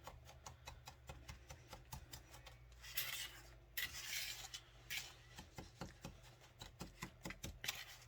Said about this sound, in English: I'm literally kind of chopping at it with my spoon to kind of make sure it's broken up